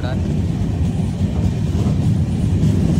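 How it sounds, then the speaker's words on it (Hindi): An Indian Railways train slowing as it nears Begunkodar station in West Bengal, a steady low rumble of wheels and carriages filling the whole moment, close and loud, with a voice talking over it. "ट्रेन की स्पीड धीरे कर दी गई है"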